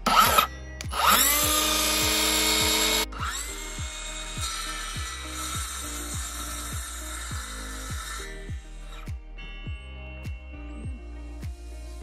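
A compound mitre saw cuts through a clamped length of wood: a loud, close motor whine and cut for about three seconds, then the blade spins down with a fading hum and faint, regular ticking.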